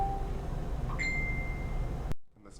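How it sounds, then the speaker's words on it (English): A phone notification chime sounds once near the middle, a short bright ding with a sustained ringing tail, heard under low room noise and steady background hum before a sudden cut to near silence. "That's my phone."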